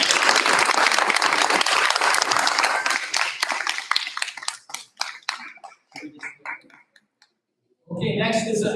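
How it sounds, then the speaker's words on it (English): A crowd at a school board meeting claps loudly and steadily, then the applause breaks into scattered individual claps and dies away before someone starts talking. "let's have another round of applause."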